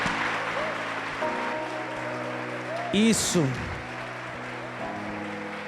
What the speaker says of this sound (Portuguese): Glória a Deus, você pode aplaudir o Senhor